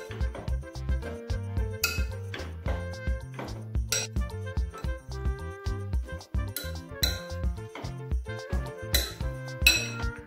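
Utensil clinking and scraping in a bowl while cabbage pizza ingredients are mixed by hand, a steady run of close, light metallic and glassy taps with no talk.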